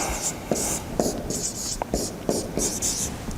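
Marker or chalk writing on a board during a physics lecture, with short scratchy strokes and taps in a steady rhythm, fairly close and clear.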